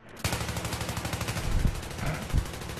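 Battlefield 3 video game gunfire, a steady stream of fast automatic shots with a few heavier thumps mixed in, loud and continuous throughout.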